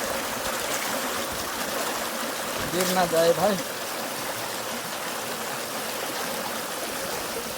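A river stream at a crossing in Karbi Anglong, Assam rushes and splashes steadily throughout, a broad continuous water roar with someone briefly speaking over it near the middle.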